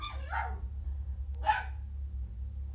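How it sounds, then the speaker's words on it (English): A puppy gives two short, high barks in the background, about a second apart, faint against a low steady hum in a home kitchen. "That's our puppy in the background."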